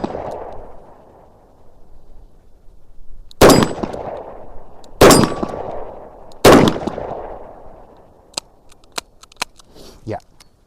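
Three loud, sharp reports from a Chiappa Rhino .357 Magnum revolver fired at targets, spaced about 1.5 seconds apart, each ringing briefly, followed by lighter metallic clicks and clanks; a person talks quietly in between.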